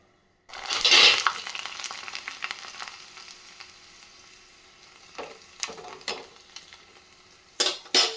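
Sago papad drops into hot oil with a sudden loud sizzle that gradually settles into a steady frying hiss, broken later by a few stirring clinks against the pan.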